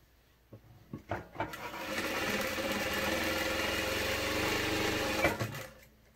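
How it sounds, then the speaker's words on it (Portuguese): A sewing machine sews a seam on a fabric backpack: a few short bursts of stitching, then a steady mid-pitched motor hum for several seconds, ending with a final quick burst as it backstitches. "Costurar um pedacinho, retrocesso no começo, retrocesso no final"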